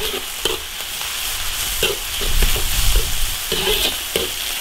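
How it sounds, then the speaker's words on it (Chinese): Beef strips stir-fried with ginger and garlic in an iron wok: a steady loud sizzle broken by sharp scraping strokes of the spatula and clanks against the metal. "水分炒干，青姜大蒜爆炒"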